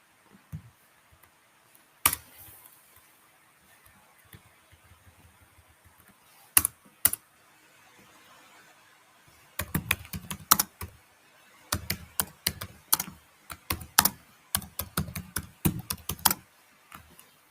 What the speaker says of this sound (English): can you type it slowly because that noise is coming?